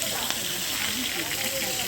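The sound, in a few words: hilsa fish frying in hot oil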